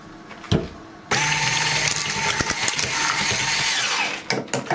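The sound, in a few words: whisking chocolate sauce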